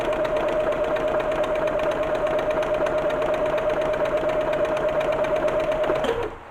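A sewing machine stitches an automatic buttonhole, humming with a steady motor whine and rapid needle chatter nearby, then winds down and stops near the end.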